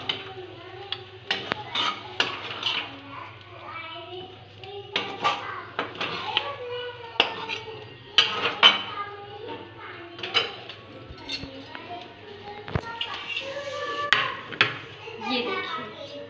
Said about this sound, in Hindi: ये हमारी मैगी हो गई है रेडी और इसे हम डालेंगे प्लेट में।